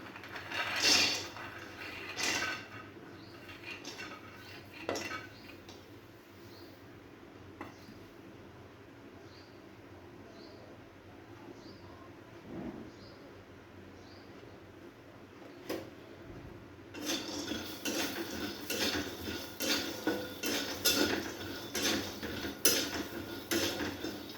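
Peanuts dry-roasting in a pan for chutney, giving soft scattered clicks and rattles from stirring. Quiet at first, then a busier stretch of tapping and scraping near the end.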